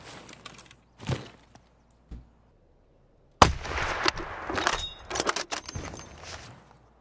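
Gunfire in Escape From Tarkov on the Shoreline map: a few sharp, brief shots early on, then a loud close blast followed by several seconds of dense, crackling bursts and impacts.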